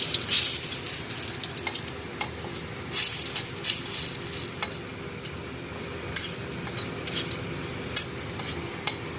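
Whole bay leaves sizzle in hot mustard oil with a soft, steady frying hiss, punctuated by sharp spoon or pan clinks and scraping at close range.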